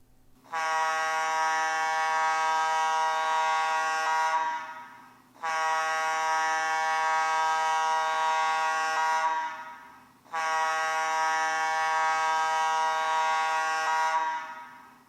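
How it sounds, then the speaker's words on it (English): Gas plant evacuation alarm: three long, loud, buzzing horn blasts of about four seconds each, separated by short pauses, close and unaccompanied. "The evacuation alarm is 3 4-second blasts."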